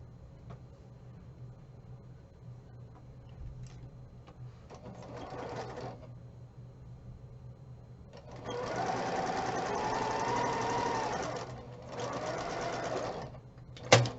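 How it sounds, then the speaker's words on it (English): A sewing machine stitches pieces of a Christmas quilt block together, running in several bursts of a steady mechanical whir with short pauses between them, close and moderately loud. "I'm going to sew from the top left to that line down there"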